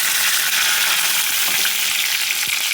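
Mustard seeds and fenugreek seeds fry in hot oil for a mango pulissery tempering, giving a steady, close, loud crackling sizzle that runs throughout with a few sharper pops and no talking.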